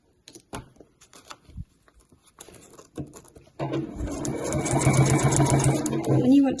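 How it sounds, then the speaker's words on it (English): Light handling taps and clicks give way to a sewing machine stitching placemat edge binding, a loud, close, rapid whir that runs steadily to the end. "you simply sew up one edge, stop, pivot, lift your foot, round you come, back down, and then continue sewing."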